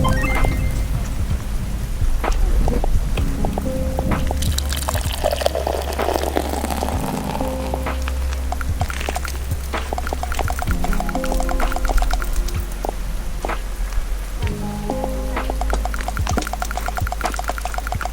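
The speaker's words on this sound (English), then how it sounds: "That's what I call an aggressive pour." Beer glugging hard and fast out of a container in one loud, continuous splashing stream lasting the whole stretch, with fizzing and small clinks over a low steady rumble.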